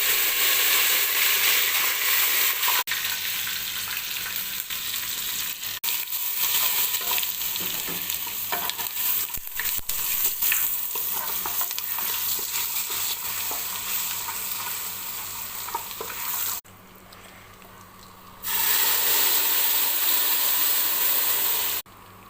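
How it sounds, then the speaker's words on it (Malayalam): Mustard seeds, onion and curry leaves sizzling in hot oil for a butter chicken dish, a loud continuous crackling fry with occasional stirring, briefly dropping away before returning. "അങ്ങനെ ഞാൻ കടുക് താളിക്കുകയാണ്."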